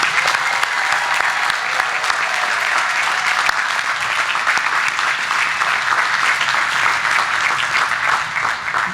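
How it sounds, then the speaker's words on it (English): Sustained, dense applause from a large commencement crowd at a college graduation, honoring the class of 2023; steady and loud throughout with no voices standing out. "Let's give that class a round of applause."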